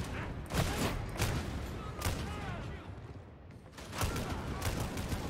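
Dense bursts of gunfire from Warhammer 40,000: Darktide combat, sharp repeated shots clustered in volleys with a couple of short pauses, loud and close over a busy game mix, with voices talking underneath.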